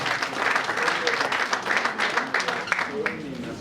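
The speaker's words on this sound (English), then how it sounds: "Musica deserves a big round of applause" Applause from the audience at a Ghana Musicians Union inauguration of presidential and Greater Accra regional executives, honouring Musica; moderate clapping from a crowd, mixed with voices talking over it throughout.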